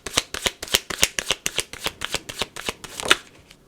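Tarot cards riffle and snap in quick, crisp bursts, about a dozen sharp flicks close by at an even pace. A louder final slap closes the run of shuffling.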